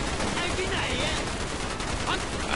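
Heavy, continuous gunfire in a Call of Duty Black Ops match, a dense unbroken barrage filling the whole stretch with no pauses.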